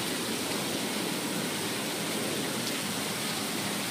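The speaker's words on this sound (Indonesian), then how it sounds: "Hujan sangat kuat." Heavy rain pours in a dense, constant roar of broadband hiss, loud and unbroken throughout with no voices.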